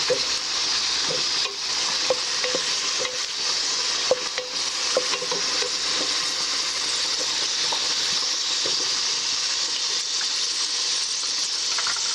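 Stew ingredients frying in a pot for a fried chicken stew, a continuous close sizzle with light stirring clinks and scrapes, steady and unbroken, with no voices.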